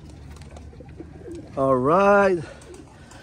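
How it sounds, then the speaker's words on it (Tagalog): A racing pigeon in a loft gives one loud, close coo lasting under a second, rising then falling, amid faint background sounds and a brief spoken word before it. "mukhang okay pa naman yung mga ibon"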